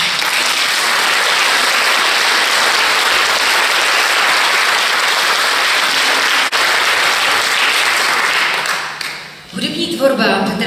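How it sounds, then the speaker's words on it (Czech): Dense, loud applause fills a concert hall at a 2019 gala performance by a romantic band at the Hradec Králové Philharmonic hall, sustained steadily for about nine seconds before tapering off and giving way to other sound. "Ještě jednou prosím velký potlesk."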